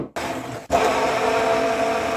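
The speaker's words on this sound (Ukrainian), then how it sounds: "Беремо наш блендер погружний." An immersion blender whirs loudly and steadily through potato pancake batter made with cabbage, onion, garlic, eggs and flour. It cuts out briefly twice near the start before running continuously.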